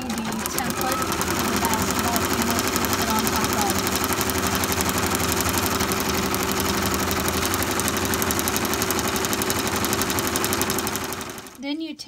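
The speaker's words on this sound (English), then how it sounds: "So right now I'm embroidering the template." An embroidery machine runs steadily while stitching out a template for a basketball panel, a dense continuous mechanical whir with fast rhythmic needle chatter that holds throughout and stops abruptly at the end.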